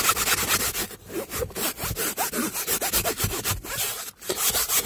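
A small, fine-bristled brush scrubs very dirty fabric on a car seat, giving continuous rough back-and-forth rasping strokes with brief pauses, loud and close, no talking.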